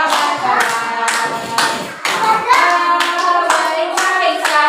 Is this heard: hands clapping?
yes